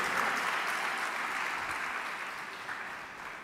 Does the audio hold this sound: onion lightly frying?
no